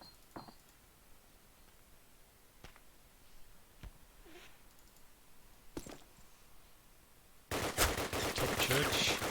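Gunfire in Call of Duty: United Offensive: faint, isolated shots echo from a distance at first, then a loud, sustained burst of rapid fire erupts close by and continues to the end.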